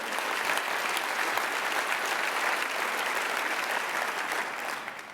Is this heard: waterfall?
no